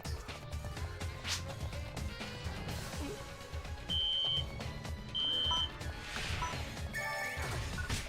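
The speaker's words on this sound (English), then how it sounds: "it's a modern fire alarm sound effect from 15 years ago" A Phantasy Star Universe game's modern fire alarm effect sounds as two short, shrill electronic beeps, each about half a second long, over busy game noise with crashes and clatter.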